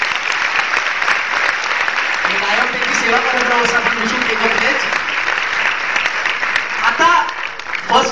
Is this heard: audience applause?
yes